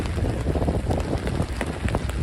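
Steady rain falls during a heavy Manhattan rainstorm, producing a dense continuous patter and hiss with no breaks, close and fairly loud.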